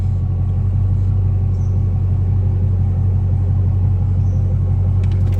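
A Dodge Charger Hellcat engine rumbles steadily and loudly at close range while the car reverses, a constant low drone with no speech.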